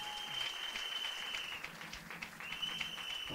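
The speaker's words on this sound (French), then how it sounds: "Clap for the Lord." A church congregation clapping during a wedding sermon, a soft, fairly distant patter of applause that continues steadily under a sustained tone, ending with a sharper knock.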